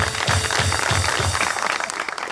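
Audience applause breaks out on a Pakistani TV talk show, a steady dense patter of many hands clapping close and fairly loud, tapering slightly toward the end, with no speech over it.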